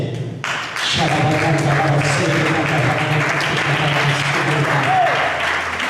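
A church congregation at an evangelical congress claps in praise to the Lord, a loud, sustained patter of many hands layered over a droning musical tone, with a voice rising briefly above the crowd near the end.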